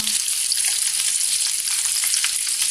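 Vegetable rolling bites fry over low heat in a pan, a steady, bright, close-up sizzle that holds evenly throughout with no talk.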